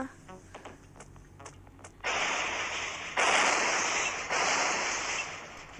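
A video game explosion in Short Life bursts in suddenly as a loud roaring blast that sustains for several seconds, rising in a couple of surges after some lighter clicks and taps.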